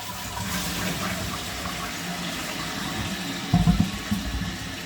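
A toilet cistern refills with water after a repair to stop a leak, giving a steady, moderately close rushing hiss throughout, with a few louder gurgling bursts near the end.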